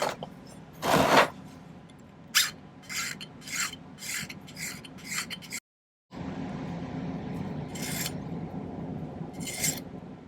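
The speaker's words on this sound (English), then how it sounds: "I'm going to do a little cleanup filing." Metal file rasping on a silver tab band at the jeweler's bench, a series of short, close strokes in irregular rhythm, with one brief silent gap midway before the filing resumes.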